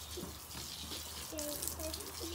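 Water runs steadily from a tap or hose while plants are watered, a soft continuous hiss close by, with a voice briefly heard over it.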